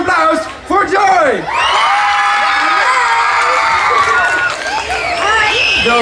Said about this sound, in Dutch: Dames en heren, een heel groot applaus voor Joy!